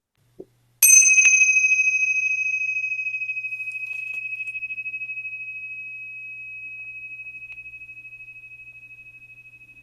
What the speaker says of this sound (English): I'm going to ring a bell, and then I can say one more little thing.